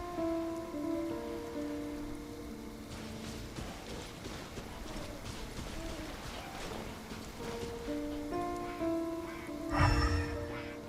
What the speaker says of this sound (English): I'm used to the rain, but you should probably use an umbrella.